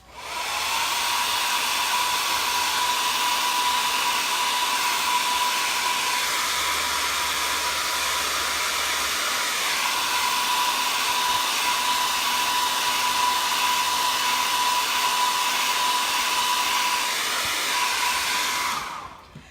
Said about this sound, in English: as soon as I turn on the hairdryer